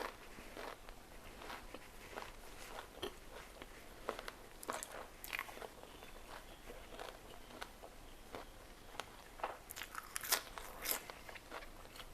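Crunchy bites and chewing on KFC fried chicken eaten with spicy papaya salad, a steady run of soft close-up crunches and crackles with no talking.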